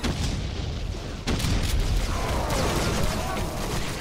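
Rocket launcher fire and blasts in Doom played co-op with the Brutality mod, giving a loud sharp boom near the start and a dense, rumbling explosive burst after it, with continuous game noise underneath.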